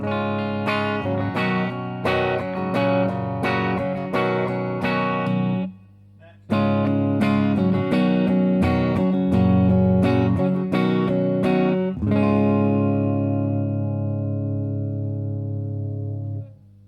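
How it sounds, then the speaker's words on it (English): A heavily distorted electric guitar through a Suhr Riot distortion pedal plays chugging chords and riffs with a brief pause, ending on a long sustained ringing chord. "some of John Suhr's tweaks to make it just sound like a really great distortion pedal."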